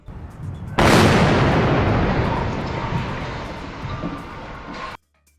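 Controlled demolition in Wuppertal: a massive explosion bursts in suddenly, then a long, loud roaring rumble of concrete and steel collapsing that fades slightly over several seconds before cutting off abruptly.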